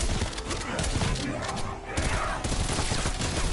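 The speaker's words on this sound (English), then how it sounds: "Oh, I don't like burst weapons." Burst-fire weapon shooting in Call of Duty Cold War Zombies on the Miami map, dense clattering gunfire running continuously through the clip amid busy game noise, with faint speech underneath.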